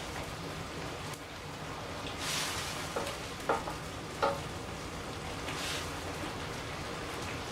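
Cauliflower risotto bubbling and reducing in a low skillet, a steady soft sizzling hiss with faint popping bursts, close and continuous with no talk.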